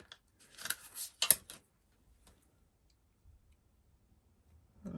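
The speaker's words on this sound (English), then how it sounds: "Just use my scissors." Scissors snip through paper cardstock for a handmade butterfly and hibiscus card. A few close, crisp cuts and clicks fall in the first second and a half, then near silence follows.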